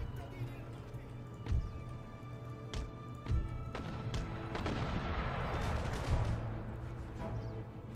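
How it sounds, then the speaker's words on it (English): Cannon and musket fire in the strategy game Empire: Total War, a British battle with mortars, heard as scattered booms and crackling volleys at a distance under a low, steady din. "So we are firing at the mortars as well"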